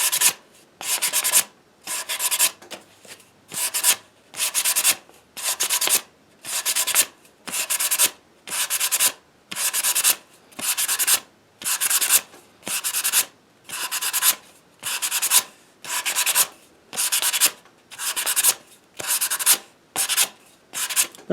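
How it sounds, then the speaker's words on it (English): Sandpaper rubs around the bevel of a wooden Native American flute in steady strokes, about twenty evenly spaced scratchy passes with short pauses between, close and clear. "I'm just on the bevel going around and around like that"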